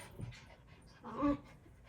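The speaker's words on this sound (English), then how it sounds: "Sorry about the dogs." Dogs pant and play indoors near a person filling a travel watercolor palette, giving quick breathy bursts with a louder whimpering yelp partway through, close to the mic.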